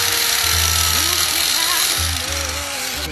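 A power tool cuts through a motorcycle chain in a loud, grinding burst that stutters and restarts in short pulses, with a voice faintly underneath.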